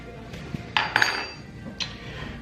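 Metal canning jar lids are handled and clink against one another in a few bright, close taps and jingles scattered through an otherwise quiet moment, with no talking.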